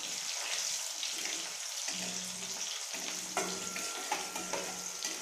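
Sago pearls fry in a pan for sabudana khichdi, a steady close hiss and sizzle with intermittent stirring clatter, a faint hum and a few clinks.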